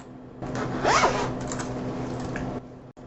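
Zipper on a tablet case pulled quickly to imitate a record scratch, a single near, fairly loud rasping sweep lasting about two seconds with a sharper zip near the start.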